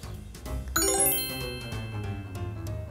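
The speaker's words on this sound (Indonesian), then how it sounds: "Ada notifikasi pertanyaan nih." A bright notification chime dings once, then its tinkling tones ring out and fade over a soft background, with no one speaking.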